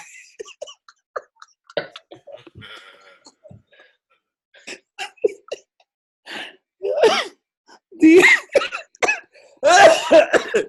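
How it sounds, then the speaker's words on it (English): Bursts of harsh, close coughing come in several fits, growing louder and more forceful toward the end, separated by short quiet gaps. "you just triggered my cough"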